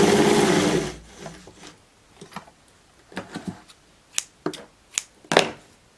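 A sewing machine zigzag-stitches plush fabric for a boot-style slipper: a dense, loud whirring burst for the first second, then quieter scattered ticks and short clicks of the machine and handling.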